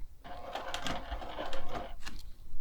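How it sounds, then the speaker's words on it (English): A sewing machine stitching quilt binding, a close, fast mechanical whir of needle strokes that runs in short bursts with a brief pause near the end. "I'm going to go one stitch more than I should."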